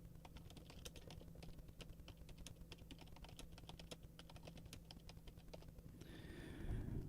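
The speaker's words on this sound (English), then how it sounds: "I'm typing to him right now." Rapid typing on a computer keyboard, a quiet, even stream of sharp key clicks over a low steady hum, ending with a brief swell of louder noise near the close.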